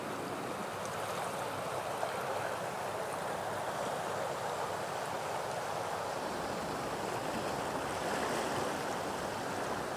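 A fast-flowing river swollen after days of heavy rain rushes steadily, a dense continuous roar of water close by with some wind buffeting, no voices over it.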